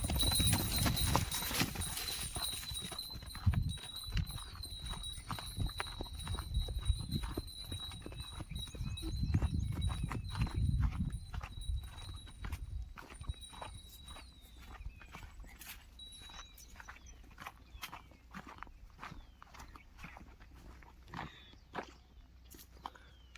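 Hooves of a pair of Khillar bullocks clop along a hard road at a bullock market in a steady walking rhythm, close by, with a low rumble underneath during the first half.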